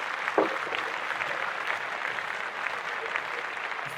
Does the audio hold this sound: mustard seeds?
no